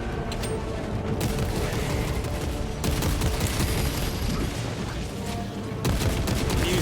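Dense, continuous gunfire and booming explosions from Warhammer 40K: Space Marine 2 gameplay, loud and sustained with bursts rising and falling over several seconds.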